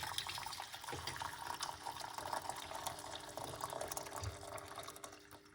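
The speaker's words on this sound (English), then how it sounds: "I'm going to put 1 cup of hot water." Hot water is poured into a medium-sized pot, a continuous close splashing stream with light trickles and drips, fairly quiet and with no talking.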